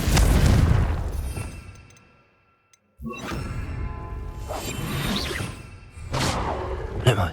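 Confringo fire-blast spell in Hogwarts Legacy gameplay, a loud booming explosion with whooshing debris, a brief near-silent gap, then more blasts and crashing impacts, no talk.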